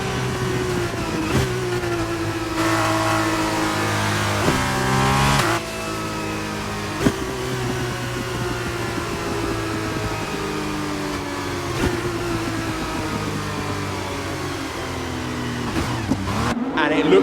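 Formula 2 race car engine droning steadily at high revs with shifting pitch as the car heads toward the pits, loud and continuous throughout, with a commentator talking over it.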